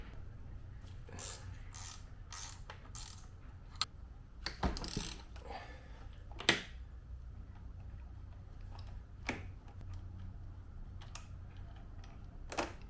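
A wrench loosens the 12 mm pinch clamp bolt and 14 mm top bolt on the front fork of a Honda CRF/XR70 motorcycle, giving quiet, close ratcheting clicks and metallic ticks in scattered bursts over a low background hum.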